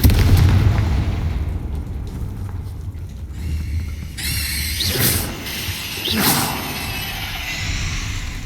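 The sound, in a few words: Confringo blast spell explosion, Hogwarts Legacy video game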